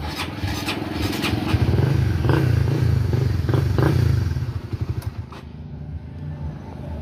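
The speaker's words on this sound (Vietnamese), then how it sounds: "mình nổ máy lại cho các bạn xem." A motorcycle engine is restarted after a throttle cable job, then runs and revs close by for a few seconds before cutting off into near quiet.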